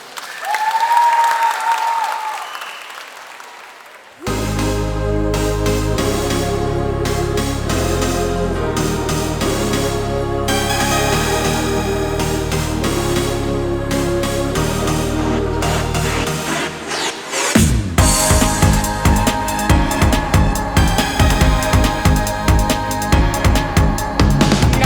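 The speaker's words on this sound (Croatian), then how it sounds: "Ohrabrimo pljeskom naše male Zagrebčane." An audience applauds at Kukuriček 2023, a children's international music festival in Zagreb. The clapping is loud and sustained, rising and mixing with band music that swells in.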